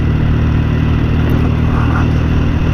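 A 1969 Norton Commando Mk1 motorcycle cruising at about 30 mph on closed throttle, with a steady, continuous engine drone and road noise close by, no talk.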